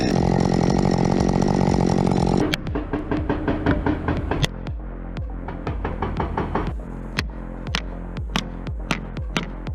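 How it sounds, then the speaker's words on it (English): A screaming chainsaw cuts into a rotting spar, loud and continuous for the first couple of seconds, then gives way to a run of sharp, repeated knocks and thuds from the logging work. "there is a screaming chainsaw cutting into a rotting spar"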